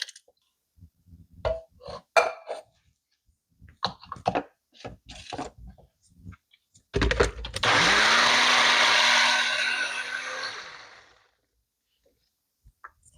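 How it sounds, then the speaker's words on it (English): Close, loud blender whirring steadily for about four seconds as it purees fire roasted tomatoes for a chickpea stew, preceded by a series of clicks and clatters of setting up the jar and lid. "Meanwhile, I can blend those tomatoes I told you about. Those fire roasted tomatoes."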